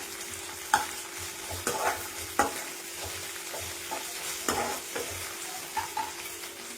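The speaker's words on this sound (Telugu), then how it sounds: "అల్లం వెల్లుల్లి పేస్ట్ పచ్చివాసన పోయే వరకు 1 నిమిషం పాటు ఇట్లా వేయించుకున్నామండి" Ginger garlic paste fries in a pan for a village-style Telangana boti fry, sizzling softly and steadily while a utensil stirs it with sharp periodic scrapes and knocks.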